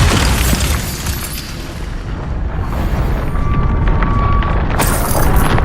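A Bombarda spell explosion in the video game Hogwarts Legacy gives a loud, dense booming blast that rumbles steadily through the whole stretch, with no talk over it.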